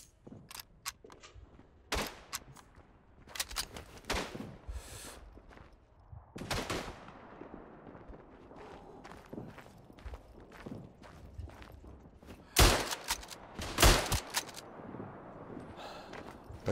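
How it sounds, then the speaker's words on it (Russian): The World War I shooter Tannenberg fills the scene with sharp rifle and gun shots, scattered and irregular, some loud and near and others softer and distant, between quieter stretches with faint movement. "Патроны кончились, промазал последний."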